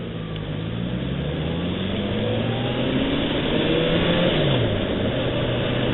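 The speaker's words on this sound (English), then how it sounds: "Traffic's not entirely terrible." Road traffic rolls past outside a moving car, a continuous loud engine and tire drone with rising and falling engine tones as vehicles accelerate, no voices.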